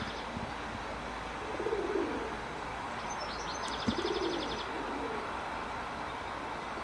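Pigeons cooing softly in a garden, a few low coos spread over a quiet outdoor background, with a short burst of higher chirping from another bird partway through.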